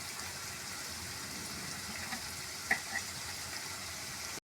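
Onions with a little salt fry in a pan for a paneer cashew curry, giving a steady soft sizzle and crackle close up, with a couple of brief clinks partway through and no speech.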